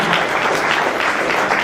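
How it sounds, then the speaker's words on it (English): A short burst of steady applause from a crowd at a county Democratic party gala, sustained clapping throughout with no pauses. "Andy, give Andy a round of applause."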